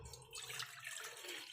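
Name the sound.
pouring a glass of water into a pot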